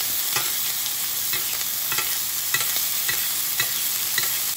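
A burger sizzles steadily in a hot pan with garlic, rosemary, thyme and red pepper flakes as it is basted, with a faint repeated clicking of the spoon over a dense, even crackle.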